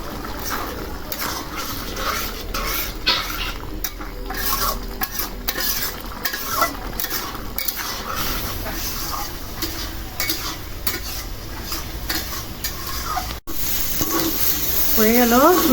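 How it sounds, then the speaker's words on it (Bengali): Bhetki fish sizzles in a hot pan with cumin powder while a utensil scrapes and stirs repeatedly, the frying hiss steady and close throughout. "ভেটকি একদম ভাজা ভাজা করে ভুনছি"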